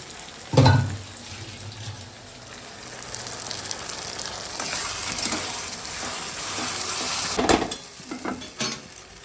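A ground paste of ginger, garlic, dried chilli, cumin and coriander hits a pan of onions with a loud wet splash. A hissing sizzle follows, with stirring scrapes and a few bumps near the end.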